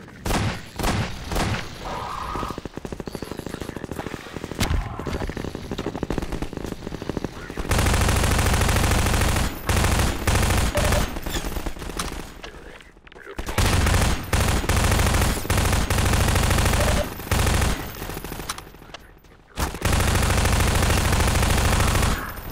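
Loud, sustained bursts of machine gun fire in Half-Life 2's prison level, long rattling volleys broken by short pauses, close and dominant with no voices over them.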